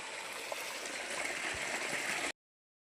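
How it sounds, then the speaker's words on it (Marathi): Steady broadband rush of irrigation water flowing into a farm field, continuous and fairly loud, ending abruptly. "हर्ष पाणी वाया चाललं"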